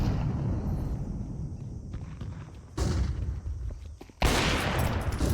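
Gunfire from the Counter-Strike 2 video game in a competitive match: several loud, sharp bursts and volleys of shots break out at intervals against a steady background din, with no one speaking.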